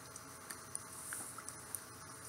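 Light rain patters steadily in the survival game Sheltered, a faint soft hiss broken by scattered small tapping drops, with no talking.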